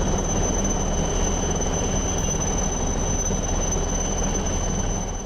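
Indian Coast Guard Chetak helicopter during a sea rescue from a sinking barge, a loud, steady rotor and turbine roar that holds constant throughout with a thin high whine on top and no voices.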